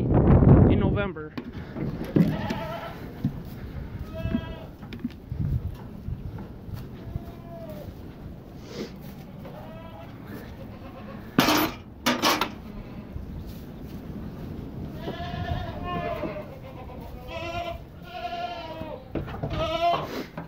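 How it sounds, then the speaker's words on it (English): Several goats bleat on and off, some close and loud, over outdoor wind and a voice talking. "We got some goats back here with a buck"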